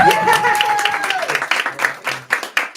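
Applause at a theater program's staged reading as a playwright is introduced, a voice trailing off at the start before scattered hand claps from a small audience thin out.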